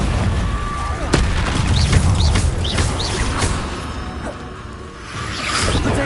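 Fiery Confringo blasts in the Hogwarts Legacy game land as repeated whooshing bursts with booming impacts, one sharp crack near the start, over constant combat noise.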